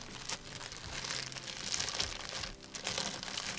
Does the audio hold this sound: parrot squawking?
no